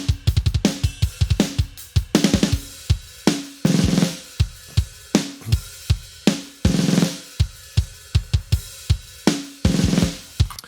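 Drum mix playing back in Cubase, with kick, snare and overhead tracks sounding together in a steady groove of sharp, loud hits, up close and without any talk.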